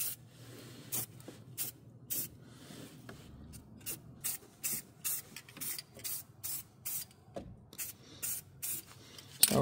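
Thin coats of black paint are sprayed from an aerosol can in a series of short, sharp hissing bursts, roughly evenly spaced, close by in a quiet garage.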